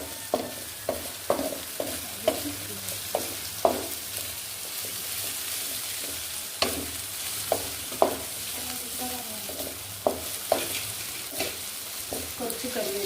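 Onions sauté in a pan as crushed ginger, garlic, cinnamon, fennel and cloves are stirred in. A soft steady sizzle runs beneath repeated sharp clinks and scrapes of a spoon against the pan at an uneven rhythm, close by.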